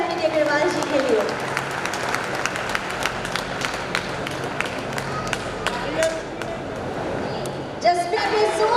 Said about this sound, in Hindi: तालियां हो जाए पी.डी. अग्रवाल जी के लिए।